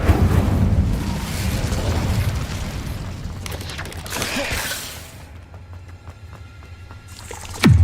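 In Hogwarts Legacy, the Incendio fire spell goes off as a loud whooshing burst with a rumbling boom, then fades into crackling, scattered impacts before another sharp blast near the end.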